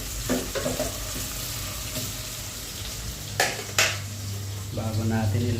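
Ginger frying in a pan for Ilocano pinapaitan, a steady close sizzle with a few sharp clanks of a utensil against the pan and stirring scrapes, and a brief murmur of voice near the end.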